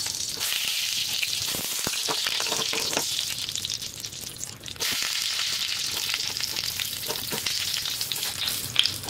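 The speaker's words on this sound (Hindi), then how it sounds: "अब हम इसको फ्राई करने चल रहे हैं।" Stuffed eggplant frying in hot oil in a kadhai gives a steady, loud sizzle with crackling pops. A brief dip comes midway, then the sizzle returns just as strong.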